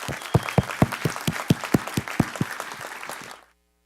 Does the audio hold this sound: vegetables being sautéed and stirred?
no